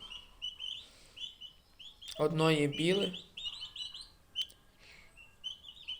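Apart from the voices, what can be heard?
turkey poults chirping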